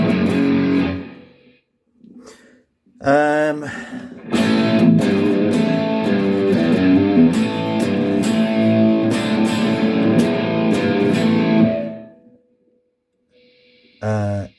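Electric guitar played through a Rat-style distortion model on a Valeton GP-100 processor, crunchy strummed chords and short riffs in bursts with brief silent gaps, loud and close.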